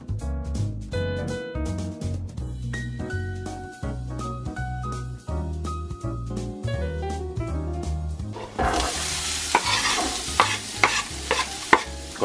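Garlic frying gently over low heat comes in as a broadband sizzle with scattered crackles in the final few seconds, after a long stretch of tonal music that carries on beneath it.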